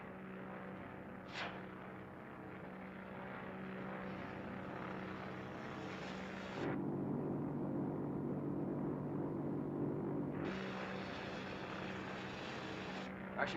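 A propeller airplane drones steadily overhead in a 1943 film scene, its engine hum shifting in loudness and pitch as it passes, with no talk over it.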